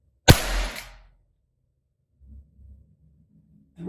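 A single sharp report from a Crosman SNR357 CO2 pistol, close and loud with a short decaying tail, followed by near silence and faint low rustling.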